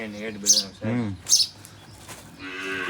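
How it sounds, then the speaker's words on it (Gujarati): A cow in a cowshed lets out two close, drawn-out moos with a third lowing call starting at the end, while birds chirp faintly in the background. "આપણી ગૌશાળાની જૂનામાં જૂની અને પેલી ગાય આ મીરા કહેવાય છે"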